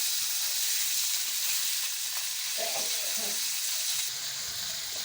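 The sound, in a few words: chicken frying in a pan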